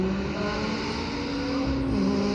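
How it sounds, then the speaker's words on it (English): A Ferrari V12 engine at the Nürburgring holds a loud, steady, sonorous note close by, a continuous harmonic roar with no talking over it. "Ferrari V12 sounds best."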